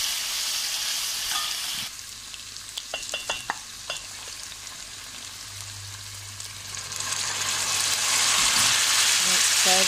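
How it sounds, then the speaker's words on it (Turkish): White cabbage and chicken sizzle and fry in a pan, with steady crackling hiss, scraping stirring clicks in the middle, and the frying growing louder toward the end; no talk. "Çok yakmadan bunu kavuracağım."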